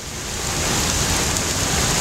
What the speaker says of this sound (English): Look at it raining.